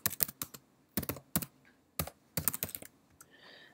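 Short bursts of clicky typing on a computer keyboard, close and quiet, with brief pauses between clusters of keystrokes.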